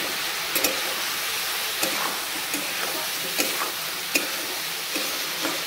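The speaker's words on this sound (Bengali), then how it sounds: "মিশিয়ে ভালোভাবে ভাজব" Potatoes and green banana fry with chili powder, salt and spices in a pan, giving a steady close sizzle with a soft hiss, broken by occasional sharp clacks of stirring, and no one speaking.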